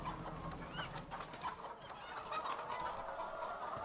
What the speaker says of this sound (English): We got the chickens scratching around.